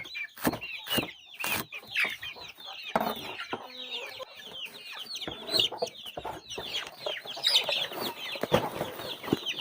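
Chickens clucking and calling close by, with overlapping bursts from several birds throughout.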